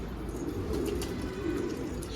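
Pigeons coo softly against a steady, noisy outdoor background, their low throaty calls blending into the ambient rumble.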